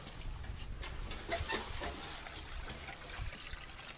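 Clear spring water trickles and burbles steadily outdoors, a close, continuous low babble with small splashes rising briefly midway, no voices over it.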